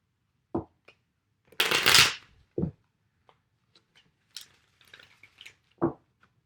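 Rider-Waite tarot cards are shuffled close by, with one long riffling burst among short taps, slaps and brief card flicks in an otherwise quiet room.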